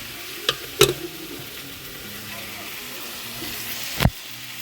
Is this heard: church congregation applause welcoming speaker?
no